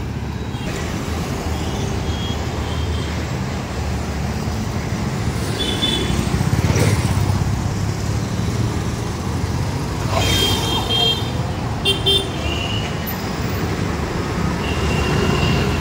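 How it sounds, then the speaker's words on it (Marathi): Heavy traffic on a very busy city road in Pune, a steady loud roar of passing vehicles with occasional horn toots and swells as nearer vehicles go by. "अतिशय रहदारीचा रोड आहे"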